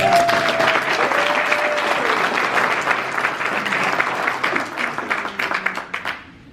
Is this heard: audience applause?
yes